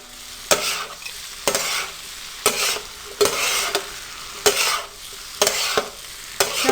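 Green chilies frying in hot oil on a tawa for tawa pulao, a steady close sizzle broken by seven sharp, regular scrapes and clacks of a spatula stirring the pan.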